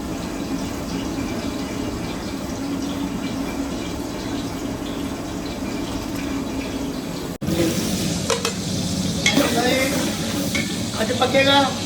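Liquid bubbling, stirring and sizzling from tinde gosht, meat with round gourd, cooking in a large langar pot, a dense continuous churn that turns busier with scraping and clatter in the final seconds; no one speaks.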